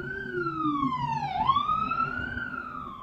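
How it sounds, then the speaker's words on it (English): An ambulance siren sweeps past outdoors, one loud wailing tone that falls and then rises again over about three seconds, standing clearly over low traffic rumble with no talking. "let's just let this ambulance go first"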